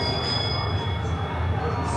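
An electric bell rings continuously over a low mechanical rumble of the Haunted Mansion ride at Disney World, with people talking in the background.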